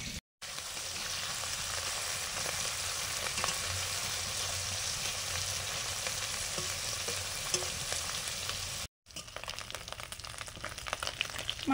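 Small dere fish frying in hot oil, a dense continuous sizzle that holds steady and loud, broken by two brief silent gaps, with no talk.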